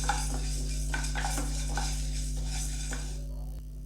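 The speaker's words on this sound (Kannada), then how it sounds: "ಮೂರು ಸ್ಪೂನು ಅಷ್ಟು ತೊಗರಿಬೇಳೆ ತೊಗೊಂಡಿದ್ನಲ್ಲ ಅದು ಹಾಕ್ಕೊಂಡು ಸ್ವಲ್ಪ ಲೈಟಾಗಿ ಫ್ರೈ ಮಾಡ್ಕೊಂಬಿಡೋಣ" Toor dal fried lightly in a hot pan, with steady spoon stirring and scraping over a faint sizzle and a constant low hum, close by with no talking.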